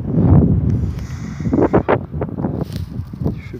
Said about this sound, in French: excusez-moi pour le vent